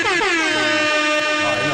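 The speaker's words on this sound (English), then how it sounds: "you gotta do the air horn" A loud, blaring air horn sounds continuously, a harsh sustained blast with wavering pitch.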